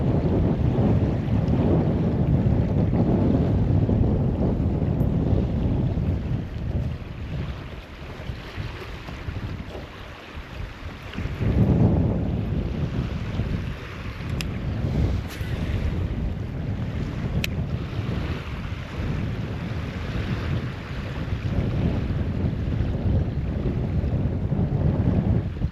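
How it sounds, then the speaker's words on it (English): Wind blowing outdoors during a fishing trip on the water, a continuous roaring buffet against the microphone with gusts rising and easing, mixed with faint water wash; no talk. "The wind is blowing."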